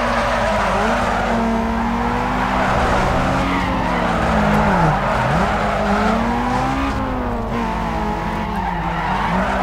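Car drifting in the video game Need For Speed Underground 2, with continuous loud tire skidding and squeal over a steady engine drone, wavering in pitch through the whole stretch.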